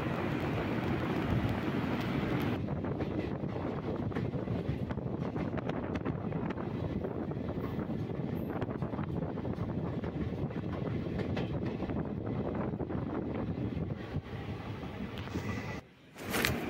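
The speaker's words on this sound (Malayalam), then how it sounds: "കൊല്ലത്ത് നിന്ന് നമ്മൾ കയറിയ പരശുറാം എക്സ്പ്രസ് ഇപ്പോൾ ദേ കൊല്ലം ജില്ലയിലെ മൺറോതുരത്ത് സുന്ദരമായ ഈ പ്രദേശം ക്രോസ് ചെയ്ത്" Steady rumble and rattle of the Parasuram Express running near Munroe Island in Kollam, Kerala, heard from inside the moving train, with continuous wheel noise and wind buffeting that dips briefly near the end.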